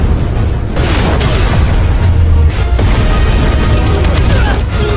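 An anime siege battering device slams into the protective formation of Xuan Huang fortress, a loud, sustained wall of rumbling booms and crashing impacts with deep low-end weight throughout.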